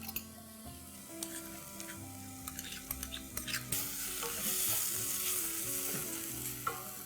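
Crushed garlic and chilies sizzle and fry steadily in a hot pan while being stirred, with scraping and light clinks of a spoon against the pan over a continuous close hiss.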